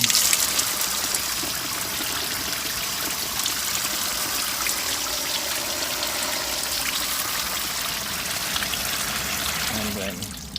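Steady hiss of water running from a hose in an outdoor stand-up shower near a San Diego beach, a continuous close splashing stream that fills the whole stretch without pause.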